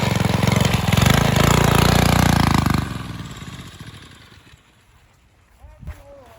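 A turbo mini bike engine runs loud and rough for about three seconds, then cuts out and fades away, leaving quiet rustling and a few faint noises near the end.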